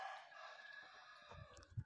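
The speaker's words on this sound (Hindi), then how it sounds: "हमारे मुर्गी की आवाज़ें सुन रहे हो ना आप" Chickens cluck and call faintly in the background, with a low murmur and a couple of soft thumps near the end.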